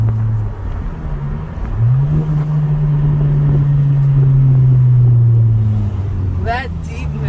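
A 2019 Honda Civic Sport with a muffler delete revs up into a deep, loud, sustained exhaust drone that holds for several seconds before easing back down, with a brief voice near the end.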